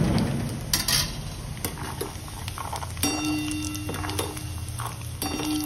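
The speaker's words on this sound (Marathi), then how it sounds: "मी सगळे जिन्नस वेगळे वेगळे तळून घेते" Peanuts and cashews fry in hot oil for poha chivda, a steady sizzling hiss with small ticks and clinks of stirring in a pan, close and continuous with no talking.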